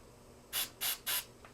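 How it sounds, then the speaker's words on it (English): Three short, hissing bursts from a silicone spray aerosol can onto a rag in quick succession, close and fairly loud, followed by a faint fourth puff. "sprayed a little bit of silicone spray"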